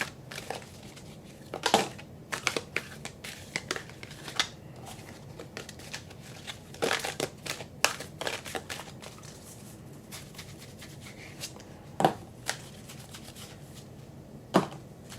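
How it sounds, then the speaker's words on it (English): Oracle cards from the Energy Oracle deck being shuffled, a steady rustle broken by sharp riffling bursts and slaps, close and fairly quiet, with no talking. "we're going to go ahead and throw some oracle cards. This is the Energy Oracle deck."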